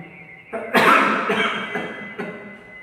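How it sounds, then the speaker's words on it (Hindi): A single harsh cough bursts out close by, followed by a few rougher coughing fits trailing off, with no talking. "कितनी भयंकर खांसी आ रही है"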